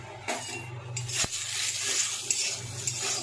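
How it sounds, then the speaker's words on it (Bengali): Dal bori, lentil dumplings, go into hot oil in a wok with a soft sizzle, and a metal spatula clinks and scrapes against the pan. A few sharp knocks stand out over the steady frying hiss, with no talk. "এবার আমি ডালের বড়িগুলো দিয়ে দিলাম এর মধ্যে"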